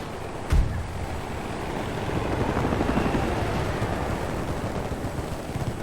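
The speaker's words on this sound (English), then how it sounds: "there's a helicopter in the air tearing them up" A helicopter in Battlefield 2042 hovers nearby with a steady, broadband rotor roar, preceded by a brief sharp impact near the start, all without talking.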